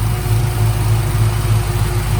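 A Camaro engine idling steadily with its electric cooling fan running, a close, constant low rumble and whir with no voices.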